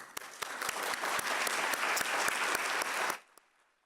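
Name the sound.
audience applause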